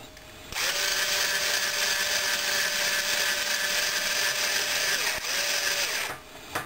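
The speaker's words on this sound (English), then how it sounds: "we'll take our string winder and we'll wind" A string winder cranks an electric guitar string onto the tuning peg, giving a steady, close whirring buzz that runs evenly for about five seconds before stopping abruptly.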